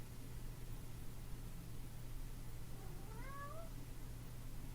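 A cat meows once, a short rising-and-falling call heard faintly and somewhat distant over a steady background hum and hiss, with no talking.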